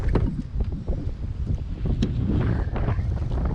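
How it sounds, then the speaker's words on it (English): Steady wind buffeting a microphone outdoors, a constant low rumbling roar with gusty fluctuations throughout, no talking. "Oh, it's windy."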